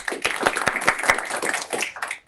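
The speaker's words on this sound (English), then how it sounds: "So round of applause for Anita" An audience claps for a newly introduced team member, a short burst of dense, even applause that tapers off at the end.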